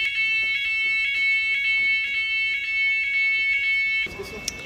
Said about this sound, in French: ils ont déclenché l'alarme